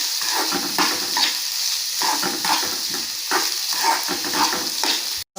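Onion stuffing for carrot onion samosas sautéing in a pan, a steady close sizzle with repeated scraping stirs of a spatula throughout, no voices.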